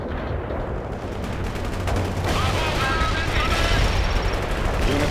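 Gunfire rattles through a World in Conflict Soviet Assault battle, dense bursts of shots and distant fusillades building louder midway and continuing steadily to the end, with no one speaking.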